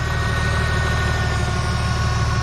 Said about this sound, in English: Car's running, as you can hear. Oliver's in the car revving it.